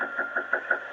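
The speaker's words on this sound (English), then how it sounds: "Then he knocks" A man raps on a front door, caught by a doorbell camera: four or five sharp knocks in an even rhythm, close and fairly clear over a faint steady hum.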